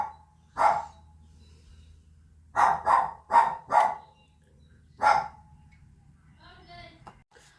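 A pet dog named Rosie barks indoors in sharp, loud bursts: one bark, then a rapid run of four, then another after a pause, with faint speech near the end.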